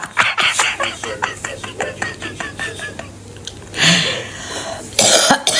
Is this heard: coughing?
yes